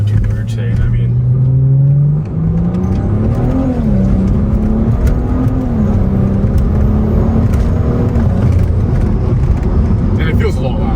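BMW N55 engine fitted with an ARM Motorsports short intake, loud and close, droning and rising as it revs with a rough whooshing intake roar, people talking over it.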